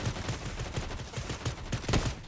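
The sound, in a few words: pistol gunfire in video game Fortnite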